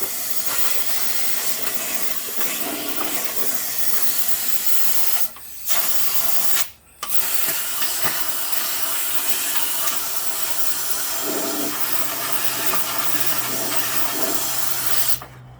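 Close, steady hiss of Fluid Film undercoating sprayed through a Pro kit wand into the frame channels of a 2016 Ford Super Duty, running almost nonstop with two short pauses.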